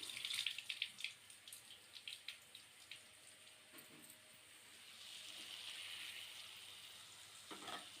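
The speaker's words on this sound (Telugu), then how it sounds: "మనకి వేగుతూ ఉంది కదండి ఇది వేగుతున్నప్పుడు" Amaranth greens and moong dal curry fry in a pan with a soft, steady sizzle. Faint clinks and stirring sounds come through early on, then a gentler hiss swells toward the end.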